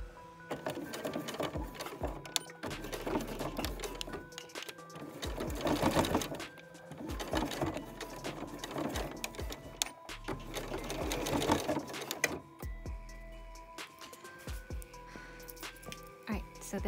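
A sewing machine stitches a dress in bursts of steady rapid whirring, stopping and starting several times, with a voice talking faintly in the background.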